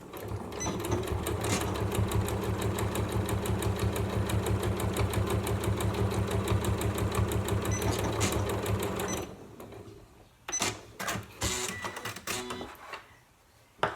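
A domestic sewing machine runs fast and evenly for about nine seconds, stitching a seam in fabric for a storage caddy, then stops. A few short, uneven bursts of stitching follow, set close by with no talking.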